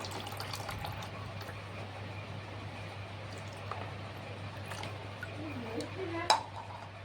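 Water drains and trickles out of a household fridge, a soft watery flow over a steady low electrical hum, with a brief sharper clink near the end.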